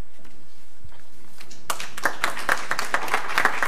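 Scattered applause at an online book presentation starts abruptly partway through after a quiet stretch. It is a moderate clatter of clapping with some sharper individual claps standing out.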